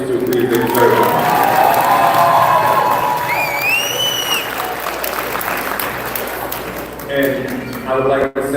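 Applause and cheering fill a sports banquet hall, with whoops and shouts rising over steady clapping, a few high whistles near the middle, and scattered voices as the noise tapers toward the end.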